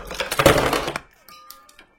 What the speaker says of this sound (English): And then the ice cubes.